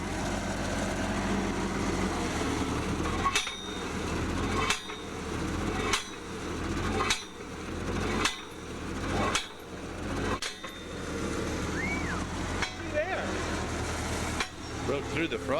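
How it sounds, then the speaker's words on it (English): A 300-pound drop hammer falls 30 inches onto drill rods driving a split spoon sampler into frozen permafrost ground, striking in a steady series of about nine sharp metallic blows over a running engine. "this is a 300-pound drop hammer. We'll be dropping it 30 inches onto the rods to drive the split spoon."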